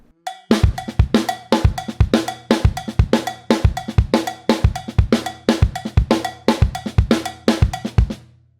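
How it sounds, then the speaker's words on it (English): A Songo groove plays on a drum kit or drum sequencer: crisp, steady cowbell strokes drive a syncopated pattern over punchy low drum hits, loud and close, with no voices. "here's an adaptation of what a Songo groove might sound like on a drum kit or in a drum sequencer"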